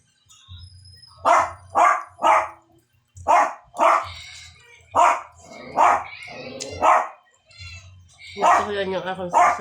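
Pet dog barking in a rapid run of sharp, loud, close barks, with a pause and a final burst of yipping mixed with a voice at the end, in a home with other pets.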